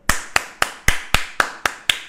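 Class clapping in a Thai-language lesson, heard as eight sharp, evenly spaced claps in a steady rhythm, close and distinct with no talk over them.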